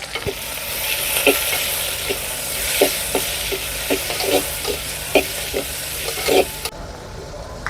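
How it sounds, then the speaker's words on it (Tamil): Shallots and chopped tomatoes frying in a pan over a village wood fire give a constant close sizzle, broken by repeated scraping stirs, until the frying sound cuts off abruptly near the end. "இது ரெண்டு தக்காளி கட் பண்ணியிருக்கேன் இதுவும் நல்லா வதங்கணும்"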